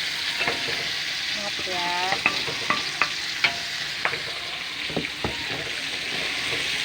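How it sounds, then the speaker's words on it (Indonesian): Noni leaves stir-fried in a pan with anchovies, a steady loud sizzle broken by repeated sharp scraping clicks of a utensil against the pan, with a brief spoken remark over it. "hari ini aku mau tumis daun mengkudu"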